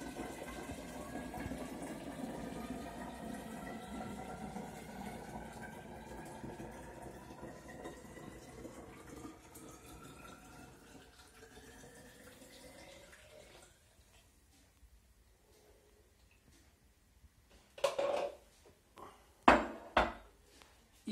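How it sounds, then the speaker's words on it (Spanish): Water is poured carefully back into a graduated cylinder, a long, soft trickling stream that tapers off, followed by a few sharp glassy clinks as the glassware is handled. "Vamos a volver a echarle la probeta con mucho cuidado de no perder agua"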